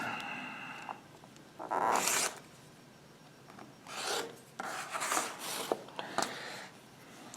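A rotary cutter slices blue floral quilting fabric into 2.5-inch squares, giving a few quiet, close rasping strokes in short bursts separated by pauses.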